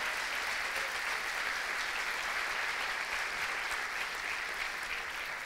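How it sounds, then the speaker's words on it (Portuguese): A church congregation applauds during a Portuguese-language sermon, a steady, even wash of clapping from many hands that holds for the full stretch without pause, moderately distant and with no voices over it. "quer aplaudir? Pode aplaudir."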